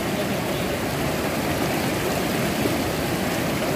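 Fast, rushing river water at Arogyadham in Chitrakoot, a steady broadband roar of current flowing strongly and continuously with no voices over it.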